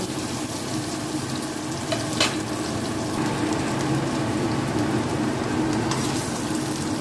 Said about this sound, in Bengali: একটা ছোটো সাইজের পেঁয়াজ কুচি করে নিয়েছিলাম সেটা দিয়ে দেব দিয়ে ভালো করে ভেজে নেব